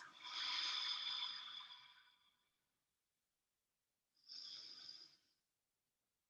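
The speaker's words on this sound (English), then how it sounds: "Slow, deep breaths." Two slow, deep breaths during a slow yoga stretching class, a long airy exhale followed after a pause by a shorter one, close and soft with no talking.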